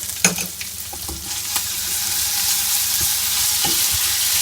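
Ham stir-frying with sambal chili paste and ginger in a hot pan, a loud steady sizzle with several utensil knocks and scrapes scattered through, close up, no one speaking.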